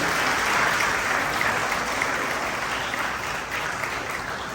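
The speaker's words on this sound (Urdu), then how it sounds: "تو بھرپور تالیاں ہونی چاہیے اس پہلو کے لیے بھی۔" Steady, full applause from an audience at a family celebration, a dense wash of clapping hands that holds evenly and fades slightly toward the end, with no talk over it.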